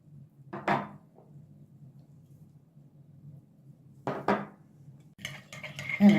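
A yeast mixture with warm milk and water being lightly whisked in a kneading bowl, with two short bursts of close metal whisk scraping against the bowl, followed by clattering near the end.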